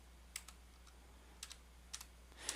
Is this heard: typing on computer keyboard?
yes